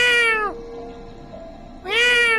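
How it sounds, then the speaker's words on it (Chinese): A cat gives two drawn-out meows heard nearby, one at the start and one at the end with a quiet pause between them, clear and alone with no voices. "听着猫叫声，我心头一紧。"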